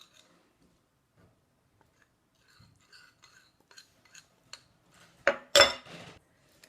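A teaspoon clinks and scrapes inside a small container while homemade organic fake blood is stirred, faint scattered ticks building to a few louder, quick clatters near the end.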